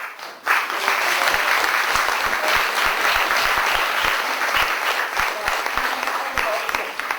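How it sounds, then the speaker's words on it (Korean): Sustained audience applause fills a hall at the final of the 2005 first national university student debate championship, starting abruptly after a brief pause and staying dense, steady and loud throughout. "마지막 박수 한번 크게 부탁드리겠습니다."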